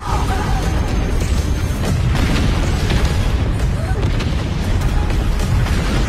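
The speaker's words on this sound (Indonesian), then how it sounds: "dari tekanan kuat yang dilepaskan sama Toru bikin asteroid pada meledak pas Toru melintasinya." Dense, continuous booming blasts and crashing rumble fill the scene, loud and close, like a rapid series of explosions overlapping without pause.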